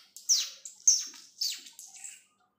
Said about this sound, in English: Sparrows, they create a very different kind of sound.